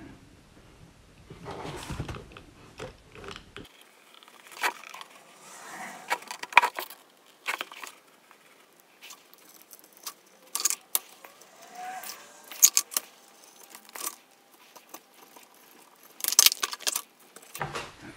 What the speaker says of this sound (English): I'm gonna cut out this with the blade